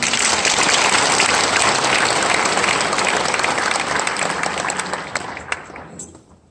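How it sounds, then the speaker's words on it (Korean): Members of a Korean church congregation in Wonju clap to welcome a new member, a loud, close, continuous burst of applause that gradually fades toward the end. "우리 박수로 부르겠습니다."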